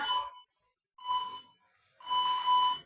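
An exercise class interval timer sounds in three bursts of tonal beeping with short silences between them, the last burst longer and slightly louder, heard clearly with no talking.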